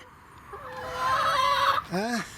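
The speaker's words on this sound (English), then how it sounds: "You can hear my chickens. They recognise my van, they do. They squawk like mad when they see me." Backyard hens squawk and cluck close by, excited at a van's arrival, with a rising run of loud, tonal calls followed by a sharp swooping squawk near the end.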